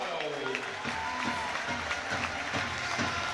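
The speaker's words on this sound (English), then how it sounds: "The Widnes Wild just take the applause of the crowd" A crowd at an NIHL 2 ice hockey championship game applauds the Widnes Wild, with steady clapping and faint cheering in an arena, heard under a commentator's voice.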